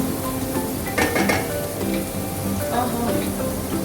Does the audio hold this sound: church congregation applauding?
no